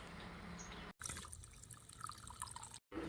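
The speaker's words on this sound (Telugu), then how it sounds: "మనం వీటిని ఒకటికి రెండుసార్లు శుభ్రంగా వాష్ చేసుకోవాలి" Vegetables are washed under running water in a village kitchen: a steady close splash and gush from the tap, briefly cut off twice, with small drips and trickles.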